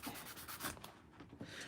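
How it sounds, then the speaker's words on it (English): Scraping and roughing up the clear plastic barrel of a Dr. Grip pen, a soft continuous rubbing with repeated strokes, close and quiet, with no voices. "Let me scrape these. Let me rough these up real quick in the clear part."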